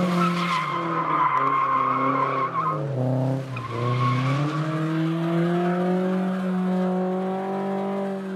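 Car drifting on a track, its tires skidding and squealing in a loud, sustained howl with wavering pitch that rises and falls over about eight seconds, mixed with engine drone and no talking.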